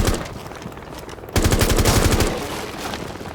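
A rapid burst of loud automatic gunfire rings out close by in a Rainbow Six Siege match as a window is shot out, following a brief quieter moment with a softer crack.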